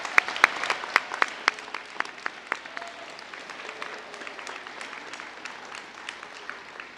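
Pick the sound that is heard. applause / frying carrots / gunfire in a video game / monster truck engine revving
applause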